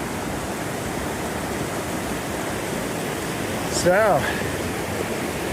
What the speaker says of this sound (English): another bridge crossing this wild, roaring river.